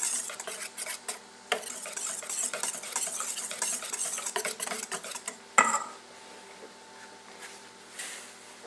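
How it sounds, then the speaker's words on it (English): Dutch baby batter being stirred after a pinch of nutmeg goes in, with a utensil scraping and clinking steadily against the bowl, close and clear, then a sharp clink and a quieter tail. "also add in a pinch of nutmeg. So it's fun to literally do a pinch sometimes. Stir that in."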